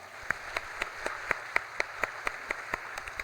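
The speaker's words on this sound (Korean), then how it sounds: "우리 하나님께 감사의 박수 올려드립니다" A church congregation at a Sunday worship service claps together in a steady, even rhythm of about four beats per second. The claps are crisp and moderately close for the whole stretch.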